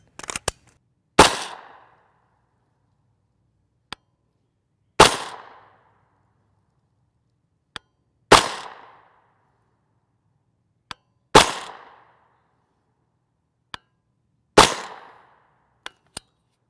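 IMI Blue Tip 9mm rounds fired from a 16-inch barrel gun at near supersonic speed: five crisp, evenly spaced shots about every three seconds, each with a short echoing decay and faint clicks between, no talking.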